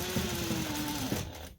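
A sewing machine top-stitching along a trouser zipper in blue thread, whirring steadily up close for a short burst before winding down and stopping.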